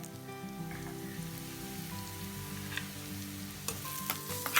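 Spices and black pepper powder frying in a pan for a South Indian fish curry, a soft steady sizzle with light stirring scrapes and a few sharper clicks near the end.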